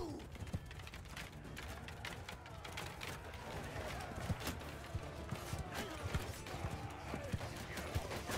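Horse archers gallop across a battlefield in Mount & Blade II: Bannerlord (patch 1.8), their hoofbeats a steady, busy clatter mixed with combat noise that grows slightly louder toward the end.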